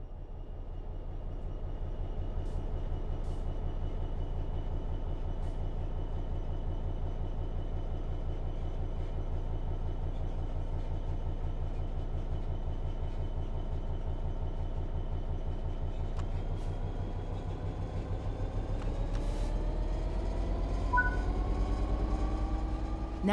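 Electric traction motors of a train in Train Sim World 3 hum steadily under power, a continuous loud drone with a whine that rises in pitch toward the end as the train accelerates.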